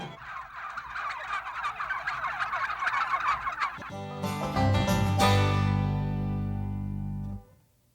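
Turkeys in Cuero, Texas, gobble together in a busy, overlapping chorus for several seconds before a loud, sustained tonal sound takes over and then cuts off.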